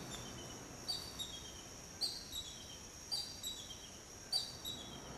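A bird of prey calls four times at regular intervals, each a thin, high, descending cry answered by a softer echo-like note, moderately distant over a quiet, faintly hissing outdoor background.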